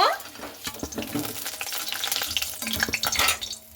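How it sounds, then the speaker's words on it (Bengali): Potatoes fry in hot oil, a busy crackling sizzle broken by the scrape and clink of stirring in the pan, steady and close with faint sounds in the background. "আলুটাকে লাল লাল করে ভেজে নিচ্ছি।"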